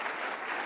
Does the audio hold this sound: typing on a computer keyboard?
no